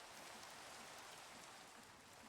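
Soft, steady rain in a Minecraft modpack world, a continuous gentle patter that stays faint and even throughout with no talking.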